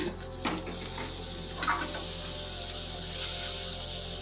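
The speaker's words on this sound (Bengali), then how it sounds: "সবজিটা আমার প্রায় হয়ে গেছে, এবার আমি এর মধ্যে পনিরের টুকরোগুলোও মিশিয়ে দেব।" Paneer pieces being stirred into cooked vegetables in a pan: soft scraping with a few light clinks of a utensil against the pan over a faint, steady background hum, quiet and without speech.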